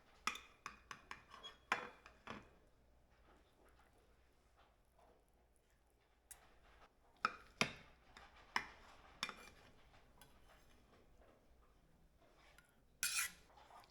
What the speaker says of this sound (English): Let me cut a slice here, move it onto the plate.